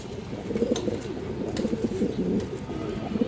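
Healthy flying pigeons of an old breed line cooing in soft, low, repeated rolling calls, close and steady throughout, with no talking.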